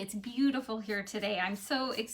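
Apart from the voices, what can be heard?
No everyday noise stands out behind the speech.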